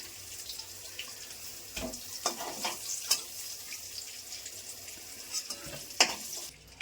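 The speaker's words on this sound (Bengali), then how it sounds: "তেলের ওপর দিয়ে দিচ্ছি কালো জিরে ফোড়ন।" Nigella seeds are dropped into hot oil to temper a Bengali home-style hilsa fish curry, giving a faint, steady sizzle broken by a few brief crackles and pops, with no talking.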